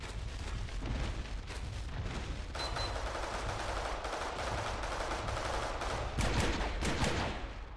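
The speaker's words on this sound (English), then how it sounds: "You shoot them each individually." Dual-wielded guns in the video game Primal Carnage Extinction fire in dense, rapid bursts, loud and nearly continuous for several seconds with brief shifts in intensity.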